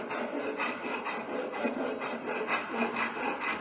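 A rasp file levels a wooden member in a carpentry shop, a close rhythmic rubbing scrape repeated in quick even strokes, alone without voices.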